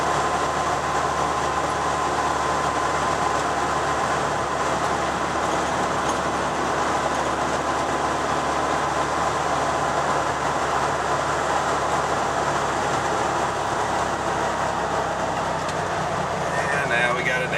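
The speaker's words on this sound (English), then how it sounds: "And now we got a downshift." A Volkswagen van engine droning steadily while driving through snow at night, with a continuous low rumble and road noise throughout and a slight change near the end that fits a downshift; no voices are heard.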